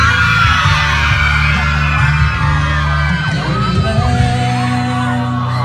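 A loud crowd screams and cheers continuously at a concert event in Phitsanulok, Thailand, with high shrieks and overlapping voices filling the whole stretch.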